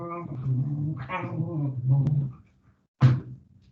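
A small dog whimpers and whines close by indoors in a few drawn-out, wavering cries, then pauses before one short sharp yelp.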